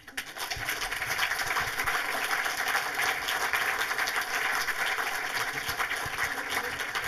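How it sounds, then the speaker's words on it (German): An indoor audience at a film talk applauds steadily, a dense even wash of many hands clapping that holds at moderate level for the whole stretch without pause. "Applaus"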